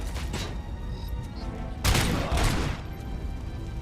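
Pistol gunfire in RoboCop Rogue City, a burst of a few close, loud shots clustered together around the middle, with quieter background noise before and after.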